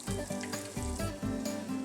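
Dominican-style crab cakes fry in hot oil, a dense, steady sizzle with faint pulsing scrapes, close and continuous with no voices.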